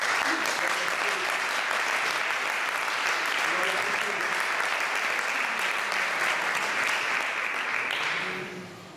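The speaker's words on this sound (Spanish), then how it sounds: "Dale un aplauso al Señor." Sustained, loud church congregation applause at Iglesia Cuerpo de Cristo, a thick continuous roar of clapping lasting several seconds before fading out at the end.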